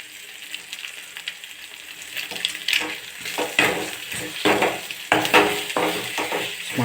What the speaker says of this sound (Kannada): ಎಗ್ನ ಹಾಕ್ಬಿಟ್ಟು ಈಗ ಮಿಕ್ಸ್ ಮಾಡಬೇಕು.